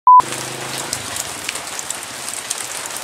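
Rain falls steadily on surfaces in a rural rice field setting, a dense continuous patter with scattered louder drops, following a brief tone at the start.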